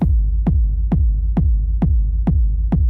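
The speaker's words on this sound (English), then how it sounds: "this is what a techno rumble bass sounds like" A heavy, booming techno rumble bass thump, reverb kick style, repeating at a steady pulse, each hit with a deep rumbling tail, loud and continuous throughout.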